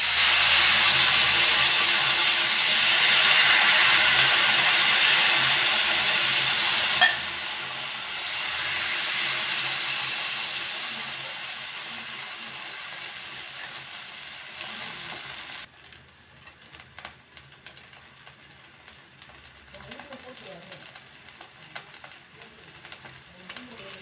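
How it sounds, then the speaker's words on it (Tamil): Rice flour dosa batter hits a hot, oiled tava and sizzles with a loud, steady hiss that softens after a few seconds and dies away near the end. "நம்ம இப்போ தோசை ஊற்றிடலாம்."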